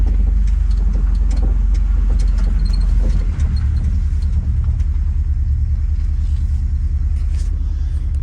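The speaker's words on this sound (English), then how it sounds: "Wait till these cars get by and then we'll back out here" Cars pass on a country road as a loud, continuous low rumble close by, with the engine drone shifting partway through and no voices.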